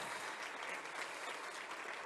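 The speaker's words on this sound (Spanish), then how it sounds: "Vamos a aplaudir con ganas." A church congregation applauds steadily, a dense, continuous wash of clapping from many hands, heard at a moderate distance and fairly quiet.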